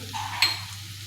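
Cumin powder hitting hot oil in a frying pan over a low flame, with a short burst of sizzle that flares briefly and settles into a soft steady fizz, close and moderately loud, no voices.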